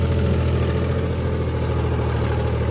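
A tractor engine runs at a steady, heavy, low idle, close and constant with no voices.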